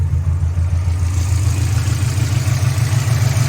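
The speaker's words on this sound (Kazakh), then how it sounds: "Мотор кичине перебой менен иштеп атат азыр." A Chevrolet Lanos engine idles loud and close with a low, uneven throb and a slight irregular stumble in its rhythm, with no voices.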